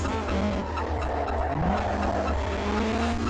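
Race car engine drones steadily in a GameCube racing game while tires squeal and skid in short bursts, with no nitrous or modifications fitted; close, loud and continuous throughout.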